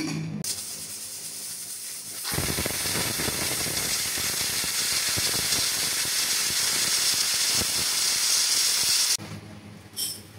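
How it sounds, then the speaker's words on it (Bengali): Pressure cooker with beef inside, a loud continuous steam hiss that starts abruptly, holds for several seconds, then cuts off. "প্রেসার কুকারে মাংসটাকে দিয়ে আমি হচ্ছে 12 থেকে 14টা মতো সিটি দিয়ে দেবো।"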